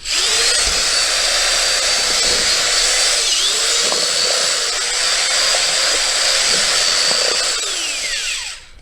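A power drill whines loudly and steadily for several seconds, with faint scraping and knocking from the paddle churning thick drywall joint compound before it winds down.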